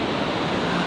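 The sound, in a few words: ocean waves on a long sandy beach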